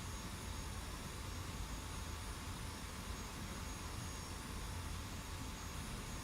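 F-86 Sabre jet engine roaring steadily in the DCS flight simulator, a continuous broadband whine and rumble with no talking.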